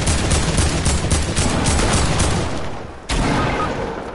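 Dense, rapid gunfire from a shooter video game 1v1 match, with overlapping bursts of loud shots filling most of the clip and a brief dip in the firing near the end before another burst.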